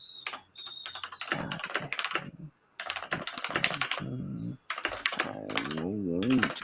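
Computer keyboard typing during a livestream, quick irregular clicking bursts heard up close while people talk over it.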